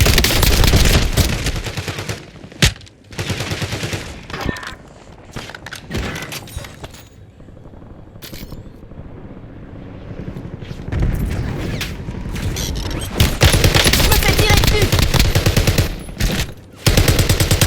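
A video game battle rattles with bursts of machine gun fire and single gunshots, loud and close, broken by short pauses and a quieter lull before heavy firing resumes.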